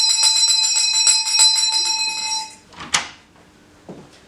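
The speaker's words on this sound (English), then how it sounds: "A bell will sound again and the first student returns" An electric bell rings continuously for about two and a half seconds to signal the station change in a hospital clinical exam. It then stops, followed by a sharp knock and faint shuffling.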